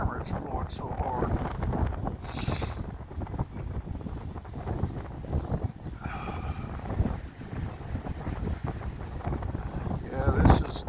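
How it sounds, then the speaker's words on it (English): Strong blizzard wind roars across the microphone in a continuous heavy rush with gusting swells, while a person talks intermittently over it. "Can you hear the wind? I can barely hold the camera. It's blowing so hard."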